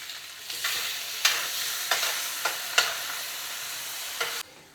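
Sugar snap peas and spoonfuls of stock go into a hot simmering pan, giving a bright continuous sizzle with several sharp hissing bursts as liquid hits the metal, close and fairly loud until it cuts off.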